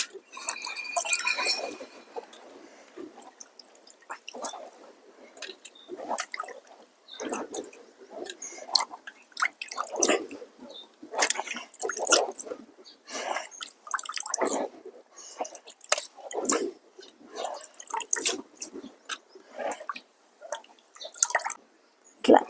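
Water drains from washed fish in a strainer, dripping and trickling irregularly with small wet splats and occasional faint clinks, close by.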